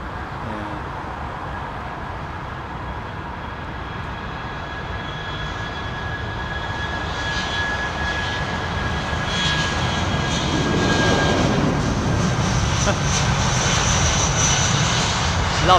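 Airbus A220 geared turbofan jet at London Heathrow, a steady broadband engine roar with a thin whine, building gradually louder as the aircraft passes fairly close, no talking.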